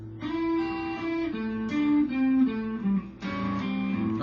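Electric guitar plays a riff, short chunky chord stabs and bending notes heard close and fairly quiet over about four seconds, with no talking.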